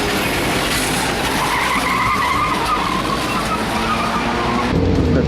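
A race car spins out during a skid plate race in a racing video game, with a sustained, loud tire screech and skid over a steady engine roar.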